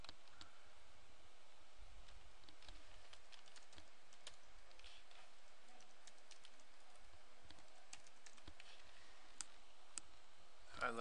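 Faint computer mouse clicks tick sporadically over low background noise while Trimble Positions License Manager software installs on a PC.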